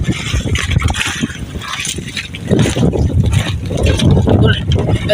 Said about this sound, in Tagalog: Lakas ang hangin mga idol.